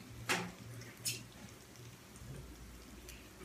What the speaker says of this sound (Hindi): ये राई का कर आवाज़ बंद होने तक वेट करना।